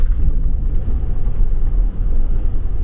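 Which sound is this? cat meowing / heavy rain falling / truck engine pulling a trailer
truck engine pulling a trailer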